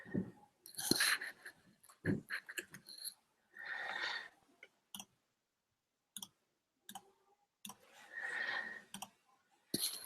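Mouse clicks at a computer while coding in a code editor, a series of sharp, close, irregular clicks in quick bursts separated by short pauses, with occasional breathy noises in between and no talking.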